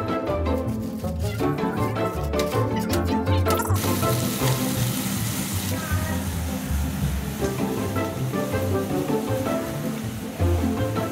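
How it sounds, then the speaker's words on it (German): Hamburger patties sear in a very hot pan in a family cooking contest, a loud, steady sizzle and crackle running throughout, with kitchen clatter layered over the top early on. "du solltest die Hamburger richtig heiß anbraten"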